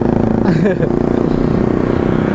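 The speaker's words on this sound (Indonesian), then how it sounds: "dengar suara motor berisik" A loud, rumbling motorcycle engine drones steadily up close, with a voice briefly speaking over it.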